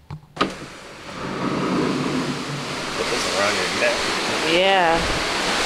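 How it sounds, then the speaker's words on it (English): Big ocean waves at sea churn and roar below a cruise ship, a broad, steady rushing wash with wind, while people talk briefly over it. "y'all have to see these waves. They are a lot bigger now."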